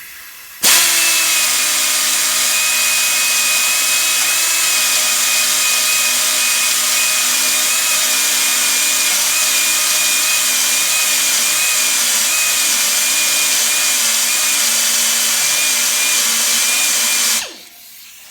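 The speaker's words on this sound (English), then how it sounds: "I'm going to just take about 1/8 of an inch using a carbide grinder off the top of that" A carbide grinder bites into the top of a steel rivet, a loud, steady high-pitched whine with a sharp metallic hiss that starts abruptly and runs unbroken for about seventeen seconds before cutting off.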